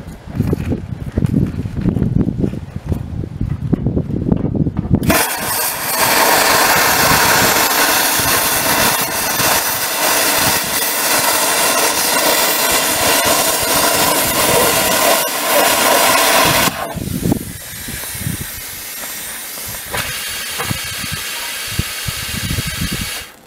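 A compressor runs loudly at a steady roar with a hissing rush for about twelve seconds and then cuts off. Quieter workshop rumble and clatter come before and after it.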